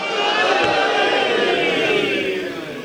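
Large crowd at a religious majlis gathering shouting slogans together, a dense sustained roar of many voices close by that fades slightly at the end.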